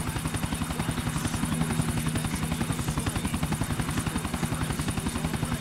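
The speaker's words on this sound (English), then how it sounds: "Over by where we pick this chopper up." Chopper in Grand Theft Auto: The Ballad of Gay Tony, its rotor beating in a steady rapid thump with a constant engine hum, loud and close throughout with no talk.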